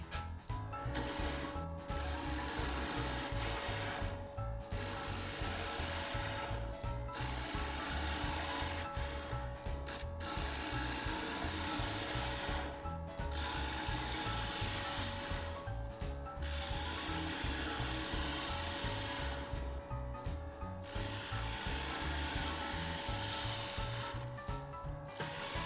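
A thin wooden goblet spinning on a wood lathe at 700 RPM while its bottom is turned off, a steady mechanical hum with a constant whine and rhythmic rubbing and clicking of the tool, with short pauses throughout.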